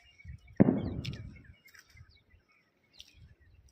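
Pigeons and other birds around a village on a winter morning, among eucalyptus trees and grass near a borewell: a sudden close flutter-like burst, then a few faint scattered chirps over quiet background.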